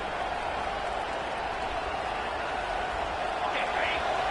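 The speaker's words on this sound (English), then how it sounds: "Decibels rising as the crowd gets behind this defense on third down." Football stadium crowd roaring for the defense on a third down at Florida vs Utah, a dense, steady wall of cheering and noise that holds loud throughout with a slight swell near the end.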